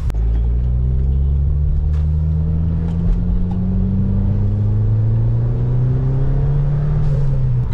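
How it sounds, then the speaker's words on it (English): Loud exhausts of tuned cars rumble, engine tones rising and falling as they rev and pass, echoing through buildings near the Nürburgring with a deep, continuous roar. "You hear all those exhaust sounds through the buildings."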